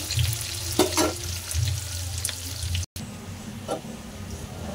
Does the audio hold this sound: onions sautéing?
yes